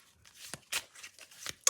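A Lenormand spring card deck shuffled by hand, a brief series of soft, close riffling and slapping bursts.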